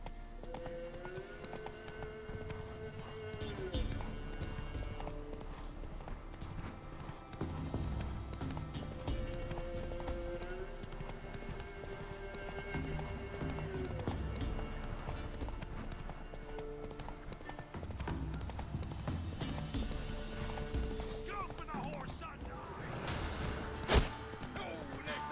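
A galloping horse in the video game The Witcher 3: Wild Hunt, steady clip-clop hoofbeats carrying through the whole stretch beneath game music, with brief spoken lines and a loud hit near the end.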